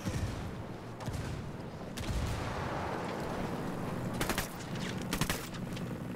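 A gun turret fires in Ghost Recon Wildlands in sustained rapid bursts, with sharper clusters of shots near the end over a dense, rumbling battle din.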